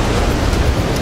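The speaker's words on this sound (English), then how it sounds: "We've got the wave breaking onto the bank." Waves break steadily onto a sandbank at a beach fishing spot, a continuous loud roar of surf with low rumble and no talk.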